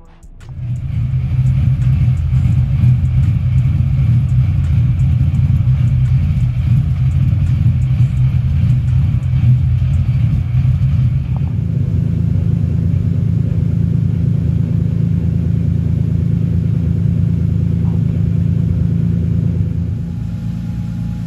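A Lexus SC300 fitted with an angle kit drives along, its engine giving a steady, loud low rumble that shifts slightly in tone midway and eases near the end, with no talking.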